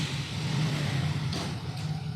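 A car engine idles low and steady as the vehicle is parked, a constant mid-low hum with a slight swell partway through and faint noise on top.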